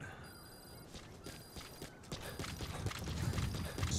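A horse's hooves clip-clop at a steady walking rhythm in Metal Gear Solid V, fairly quiet, with faint mechanical game sounds and a steady tonal whine behind.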